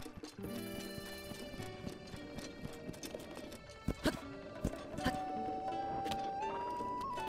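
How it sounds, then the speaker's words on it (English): Horses in the Zelda: Breath of the Wild video game, with steady clip-clopping hooves and a brief whinny over layered game music and effects, moderately loud throughout. "Horses!"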